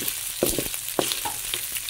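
Pork neck frying in oil in a pan for Bicol express, a steady close sizzle with a few sharper spatters and scraping stirs, no voices.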